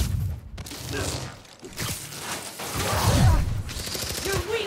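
Gunfire in the Spider-Man: Miles Morales video game on PS5, bursts of shots and thuds mixed with chaotic game action, loud and dense throughout.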